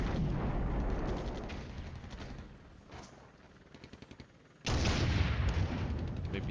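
Artillery bombardment of positions in the Flashpoint Campaigns war game, dense rumbling blasts and rattling fire that thin out briefly mid-clip before a sharp, loud new barrage erupts and carries on.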